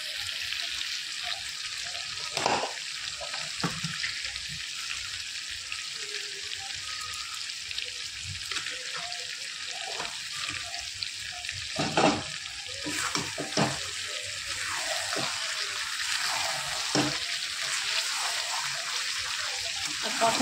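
Chicken being slowly fried down in a pan gives a soft, continuous sizzle with occasional spatula scrapes and clanks, while a voice talks faintly at times.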